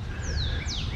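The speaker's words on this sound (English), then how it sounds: "you can hear the birds in the background." In a secluded suburban backyard garden with a waterfall, birds sing with a few thin chirps and sweeping calls at middle distance, over a steady low rushing background.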